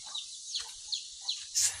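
Backyard chickens on a rural farm cluck and call in several short bursts, fairly close, with a louder squawk near the end.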